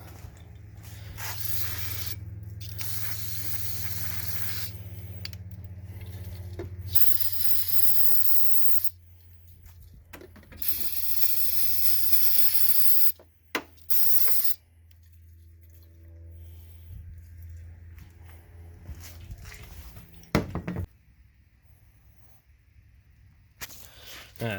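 Carb cleaner hisses from an aerosol can onto oily parts of a 2000 Subaru Outback, a close, loud spray held for long stretches, then a few shorter bursts broken by quiet gaps.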